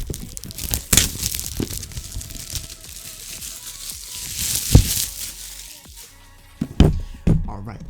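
Packaging of an AI Chameleon gimbal being torn and opened up close: sharp tearing, crinkling and crunching bursts at uneven intervals, with a voice talking in between.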